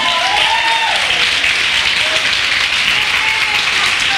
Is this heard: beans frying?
no